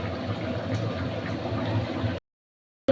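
Fish curry of katla fish with potato and pointed gourd simmering in a pot, a soft steady bubbling that stops abruptly near the end, with no talk over it.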